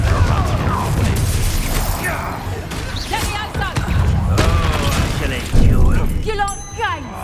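Confringo fire spell cast in the video game Hogwarts Legacy during a combat fight, heard as heavy booming impacts and thuds under magical whooshes and layered game effects, with voices speaking throughout.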